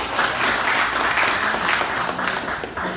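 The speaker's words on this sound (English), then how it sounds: "Give a hand of applause for yourself." Conference audience applauding in a steady, dense wash of clapping that holds for the full stretch without letting up, fairly loud and close, with no voices breaking through.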